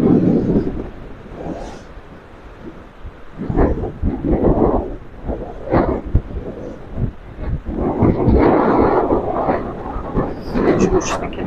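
Storm wind gusts across a free caravan camping area in Aydıncık, Mersin, on the Turkish coast, buffeting the microphone in loud rumbling bursts that rise and fall irregularly.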